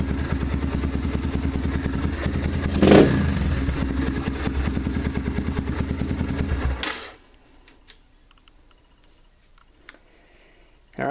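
A TTR230 dirt bike with a freshly cleaned carburetor idles close by with a fast, even popping putter and one brief throttle blip, then the engine shuts off, leaving near silence and faint clicks.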